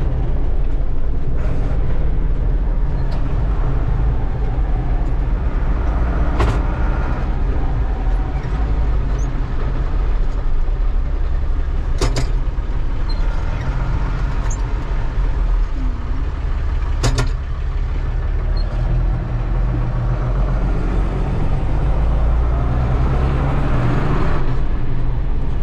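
Tractor pulling an eight-cubic-metre slurry tanker on a farm, a loud continuous low engine rumble with rattling and a few sharp clanks, steady throughout with no talk.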